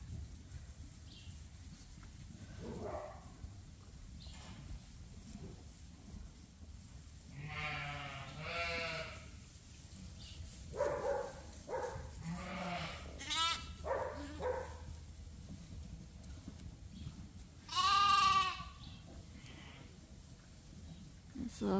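Dorset lambs bleat in a barn, several separate wavering cries at varying distances spread over the stretch, with quieter shuffling and background noise between calls.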